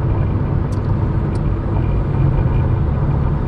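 A car drives uphill with a loud, continuous low engine rumble and road roar heard from inside, holding a steady droning level throughout.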